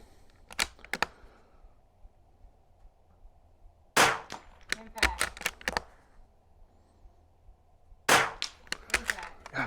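Rifle shots ring out at an outdoor shooting range during an NRL 22 match, sharp cracks arriving in three separate clusters with quiet gaps between them, some shots close and others farther off.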